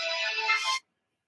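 A mobile phone ringtone sounds loud and close, a steady bright electronic melody that plays for under a second and then cuts off into silence.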